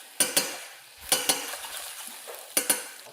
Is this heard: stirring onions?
yes